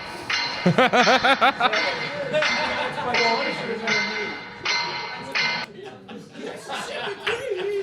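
A man imitates a Catholic church bell ringing with his voice, giving a rapid series of rhythmic ding-like bursts, while laughter and chatter from other people follow around it.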